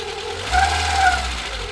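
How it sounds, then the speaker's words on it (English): A 1993 Citroen ZX 1.4i TU3 engine idles, then gets two short revs that rise and fall, with a light ticking, whirring noise from an overtight timing belt riding on top. "So when you give it a little rev, yeah, that noise?"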